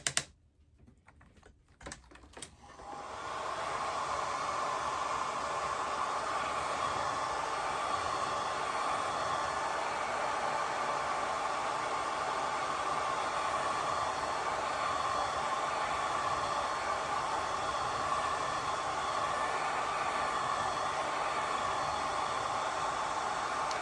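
Hair dryer or heat tool blowing steadily on a wood ornament painted with watercolor, a few clicks at the start before the continuous airy whoosh settles in and runs loud and unbroken.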